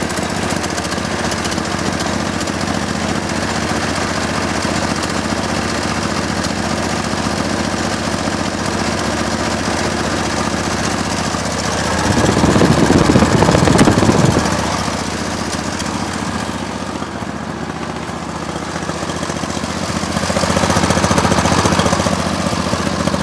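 A lawn tractor engine with a new Briggs Intek carburetor runs steadily, with a low rumble and knocking drone that swells louder twice, with no talking over it.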